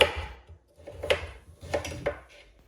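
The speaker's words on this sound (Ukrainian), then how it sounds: "Нарізаю моркву невеликими шматочками" A knife chops carrot into small pieces on a board, with a few separate sharp knocks spaced apart and quiet gaps between them, close and fairly loud.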